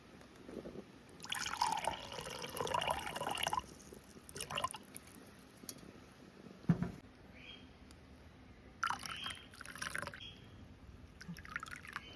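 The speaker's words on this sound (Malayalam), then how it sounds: "ശേഷം വെള്ളവും കുറച്ച് പാലും കൂടി ഇട്ട് നമുക്ക് മിക്സ് ചെയ്തിട്ട് നമുക്ക് ഇതിനകത്തോട്ട് ഒഴിച്ചു കൊടുക്കാം" A water and milk mixture for semiya payasam is poured into a pan, quiet sloshing and dripping pours in several short bursts with pauses between, close and low in level, no voices.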